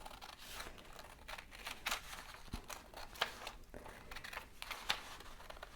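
Scissors snip a paper insert down to size for a booklet, a quiet run of close, crisp cuts and rustles in irregular bursts with no talk.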